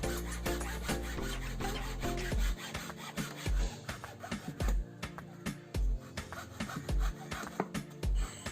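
Areca palm wood being sawn into legs for a sofa, a close rhythmic run of rough rasping strokes that breaks into separate, evenly spaced cuts partway through.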